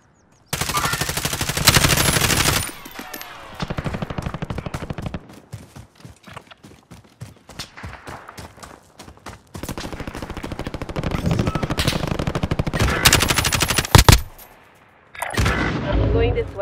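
Loud bursts of automatic gunfire fill a Call of Duty: Modern Warfare firefight, with rapid rattling volleys, pauses between bursts and a sharp blast near the end; the shooting continues nearly throughout.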